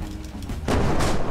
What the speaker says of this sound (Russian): Да кто-то стреляет по мне.